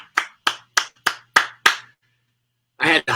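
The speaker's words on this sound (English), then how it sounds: "for the applause to be heard in its fullest there" Remote audience claps after a folk performance: six sharp, evenly spaced hand claps, close and distinct, followed by a pause and a brief burst of more clapping.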